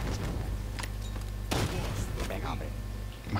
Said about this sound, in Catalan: Home, clar, una explosió.